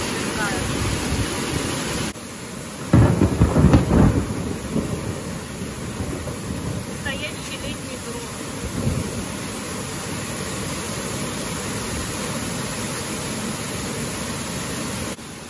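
Heavy rain pours down in a wall, slanting in a sudden summer downpour in a village in Bashkiria, a loud steady hiss with a rumble of thunder near the start, while people talk quietly under it.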